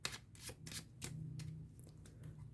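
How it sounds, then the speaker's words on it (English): A deck of playing cards is given an overhand shuffle during a card trick, with soft rhythmic riffling bursts close by and quiet, repeating several times with no talk. "We'll do an overhand shuffle too,"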